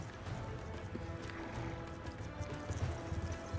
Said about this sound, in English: I feel like a cowboy riding a horse with a pistol.